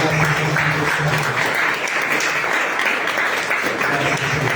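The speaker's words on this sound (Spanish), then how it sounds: "vamos a demostrarte con este fuerte aplauso de tu pueblo. Fuerte ese aplauso, Señor." A church congregation breaks into strong, continuous applause during a worship service, a loud, dense clapping that holds steady throughout, with faint voices mixed in beneath it.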